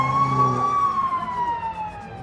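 Police car siren wailing steadily at a distance, slowly falling in pitch as it passes, over a low background rumble of traffic and murmured voices.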